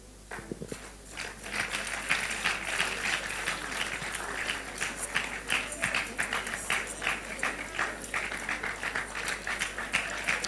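Sustained audience applause at a Labour Party political event welcoming Zaria Yusuf, a dense, steady clatter of many hands clapping after a brief quieter start, continuing throughout with no talk.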